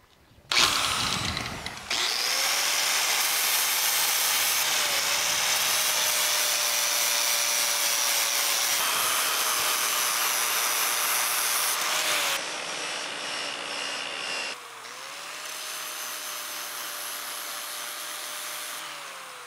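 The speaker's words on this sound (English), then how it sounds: "So let's start with doing some grinding on this." A V8 crankshaft is ground with a power grinder, a loud sustained high whine and rasp of abrasive on steel, close by, with the tone shifting as pressure changes and a short break near the end.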